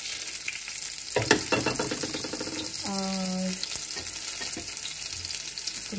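Garlic and green chili frying in a pan over very low gas flame: a steady close sizzle, stirring scrapes in the early seconds, and a brief tonal hum midway.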